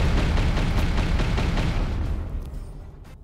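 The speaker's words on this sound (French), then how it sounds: "Bam, ça explose." A dynamite explosion in a casino slot video game: a dense, loud rumbling boom that fills the opening seconds with crackling bursts, then slowly fades away.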